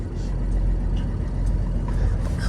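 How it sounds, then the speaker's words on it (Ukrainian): A Mercedes 814 dump truck rolls slowly in second gear, its diesel engine giving a steady low rumble close by with no speech. "Так, включена в мене зараз друга і помаленько їду"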